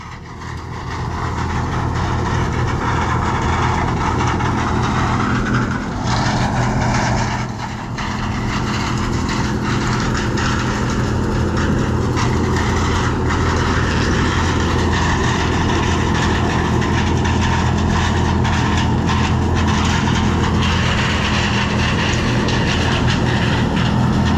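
A forage chopper harvesting tall corn produces a loud, steady mechanical roar of engine and cutting head that stays close and continuous throughout, with only a brief dip in the middle.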